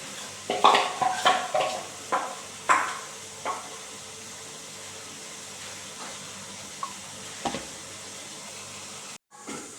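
Metal pot of corn dhokla batter set into an idli steamer and covered with a lid, a run of sharp clanks and scrapes close by over a soft steady steam hiss, ending in a final clatter.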